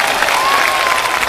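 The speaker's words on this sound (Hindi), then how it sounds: "तालियां।" A studio audience at a comedy contest applauds the judge, a brief burst of dense, loud clapping.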